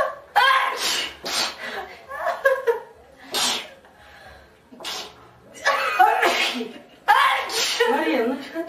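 Several girls sneeze one after another in a series of sharp, close bursts spaced irregularly, with breathy pauses and snickers between them.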